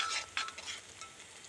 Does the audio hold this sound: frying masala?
yes